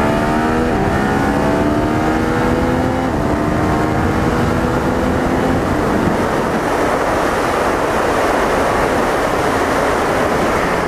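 A Yamaha MT-09 motorcycle accelerates hard during a ride, its engine note climbing through rising gear pulls with a shift early on, then giving way to loud, continuous roaring wind and engine noise.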